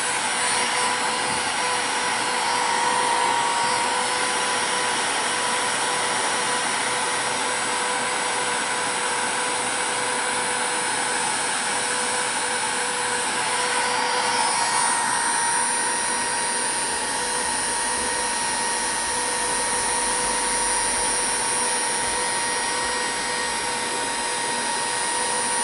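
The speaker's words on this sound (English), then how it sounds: "I know it's kind of boring watching heat shrink, but part of this series." Steady broadband blowing roar of a heat gun running continuously, shrinking heat-shrink tubing over scooter wiring; loud and close, with no talking.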